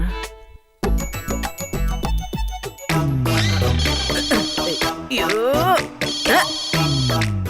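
A phone ringtone plays loud and close as a repeating electronic melody with bright tonal notes, running under people talking in a Tamil TV serial scene.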